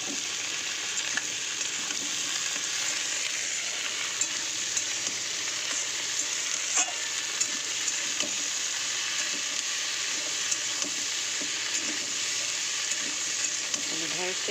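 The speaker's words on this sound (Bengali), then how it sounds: "এরপরে একটু ঢেঁড়সটা দিয়ে দেবো, দিয়ে ঢেঁড়সটা একটু ভাজা ভাজা করে নেব।" Okra sizzles and fries in a pan with tempered spices, a steady close crackle with occasional stirring taps throughout.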